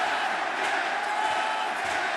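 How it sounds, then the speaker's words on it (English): Large wrestling arena crowd at the Chase Center during an AEW Revolution 2023 iron man match, a steady, roaring wall of cheering and chanting heard from within the stands, with no pauses. "Danielson drawing out of the energy of this fantastic crowd at the Chase Center."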